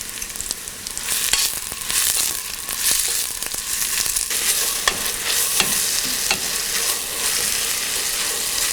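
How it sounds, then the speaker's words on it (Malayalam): Sliced onions and salt sautéing in a pan for a Kerala-style mutton stew, a steady loud sizzle with repeated scraping stir strokes, no voices. "ഇതിലോട്ട് നമ്മൾ കട്ട് ചെയ്ത് വെച്ചിരിക്കുന്ന സവോളയും ആവശ്യത്തിന് ഉപ്പും ഇട്ട് വഴറ്റുക"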